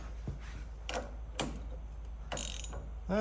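A wrench clicking and ratcheting on a car's sway bar link, quiet close-up metallic ticks spaced irregularly, a few sharp clacks with short pauses between them.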